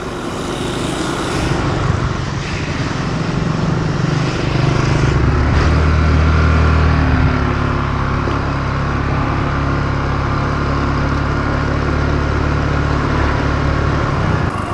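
A motorbike engine runs steadily on a wet, slippery road in the evening, with a continuous low drone and some rise in load midway, close and fairly loud throughout with no talk.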